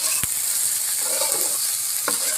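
Ridge gourd is stirred and fried in a pan, giving a steady close sizzle broken by a couple of sharp scraping knocks from the spoon against the metal.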